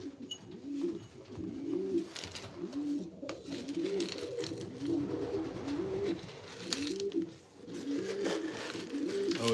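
Racing pigeons, including a blue check hen, coo steadily in a loft, a dense overlapping chorus of soft rolling calls that continues throughout with no voices.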